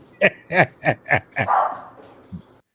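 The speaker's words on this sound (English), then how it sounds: "See what my dog's barking at." A dog in a video game barks in a quick run of five sharp woofs, close and clear, followed by a short whimpering exhale and a faint final yip.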